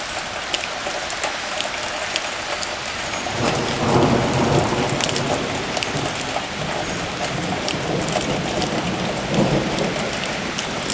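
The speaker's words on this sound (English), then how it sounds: "Boy, did this storm come on quick." Steady heavy rain pours down, with low rolling thunder swelling in the middle and rumbling again near the end.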